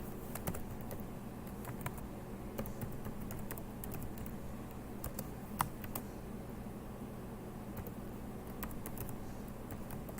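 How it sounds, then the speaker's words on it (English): Typing on a computer keyboard produces faint, irregular clicking keystrokes in bursts, quiet and close against a soft background hum. "So I'm going to type it right now."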